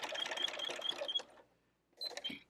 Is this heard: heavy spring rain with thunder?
no